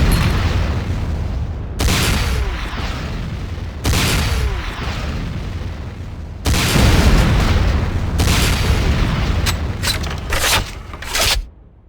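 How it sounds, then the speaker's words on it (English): Sakoze 66mm Type R12 Locust automatic rocket launcher in C&C Renegade, firing rockets that burst into a string of heavy booming explosions, several loud blasts in quick succession with rumbling tails between them. "Next up is the Sakoze 66mm Type R12 Locust automatic rocket launcher."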